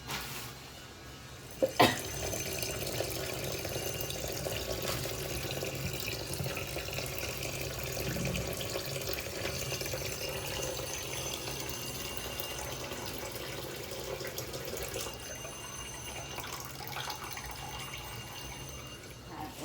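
A small glass of water is poured into a pot of prawn curry in a home kitchen. A steady, even splashing runs for nearly twenty seconds, close and moderately loud, with a brief clink near the start.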